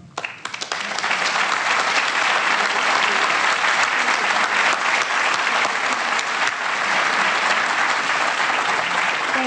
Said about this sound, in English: Let him know we're cheering for him.